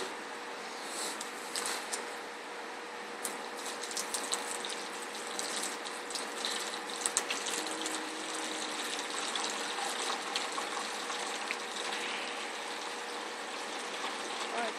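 Water poured from a container into an empty bottle while mixing a 50/50 antifreeze coolant, a steady hissing gush that runs unbroken and fairly faint throughout.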